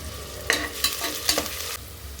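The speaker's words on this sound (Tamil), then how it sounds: "வெங்காயம் நல்லா வதங்கட்டும்." Onion sautéing in ghee with whole spices, stirred in a pan: a soft, continuous sizzle broken by about four quick scraping strokes of a spoon, close up, with no speech.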